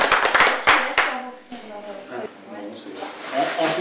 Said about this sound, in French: Quoi qu'il arrive, je pense qu'on peut applaudir et féliciter.